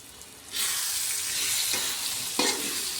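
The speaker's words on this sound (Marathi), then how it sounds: "आता याला टाकायचं आपण थोडा कोथिंबीर, आणि याला पण हलवून घ्यायचं।" Masala frying in a pan with coriander added, a loud steady sizzle that swells as the spatula stirs through it, with a couple of sharper scraping strokes and no voices.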